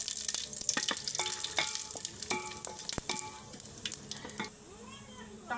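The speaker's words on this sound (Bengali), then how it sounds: "এই দেখুন জিরে ফোড়ন দিয়ে দিলাম, আর দুটো তেজপাতা আর দুটো শুকনো লঙ্কা দিলাম।" Cumin seeds, two bay leaves and two dried red chillies tempering in hot oil for a chickpea curry, crackling sizzle mixed with sharp clinks and utensil taps nearby, fairly quiet.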